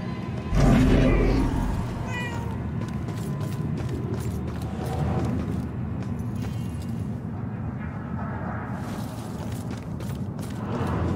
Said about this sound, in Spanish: Puede maullar